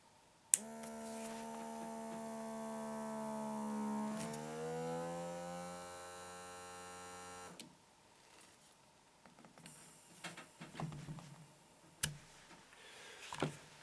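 An automatic electric vacuum suction cup for tiles runs with a steady motor hum that changes pitch as it pumps, then cuts off, followed by faint clicks and valve sounds.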